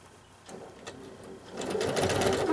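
Sewing machine quilting basting lines across a red appliqué section of a quilt, its rapid stitching rhythm starting softly and growing louder and busier toward the end, close up with no talk.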